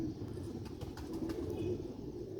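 Red pearl-eyed, mouse-coloured fancy pigeons coo softly and continuously in low, murmuring tones, faint and close, with no other sounds standing out.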